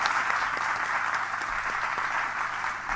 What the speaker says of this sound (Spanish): Aplauso para Roberto Rimoldi Fraga.